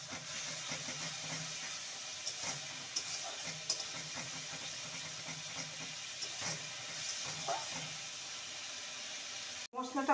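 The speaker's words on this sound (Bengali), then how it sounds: "ভালো করে মশলাটাকে কষিয়ে নেব।" Spices with Kashmiri chilli powder frying in oil in a pan while being stirred, a continuous soft sizzle and hiss with scattered scraping clicks from the spoon.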